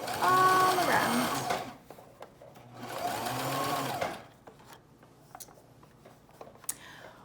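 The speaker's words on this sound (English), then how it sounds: "I'm going to sew all around." A sewing machine stitches around the edge of a three-layer fabric mask, running in two loud whirring bursts separated by a pause, then quieter clicks and small handling sounds.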